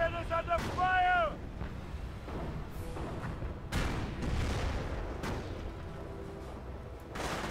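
Gunfire and artillery shelling pound a position in Company of Heroes, with repeated heavy thumps and explosions spread across the stretch, mixed with game sounds and a brief voice alert.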